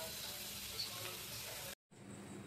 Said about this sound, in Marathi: आता आपण तेल गरम केले, त्याच्यामध्ये ना आपण जिरा आणि तमालपत्र टाकतोय